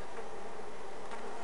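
Honey bees buzzing inside an opened hive, a steady, close swarm drone with no pauses and no voices.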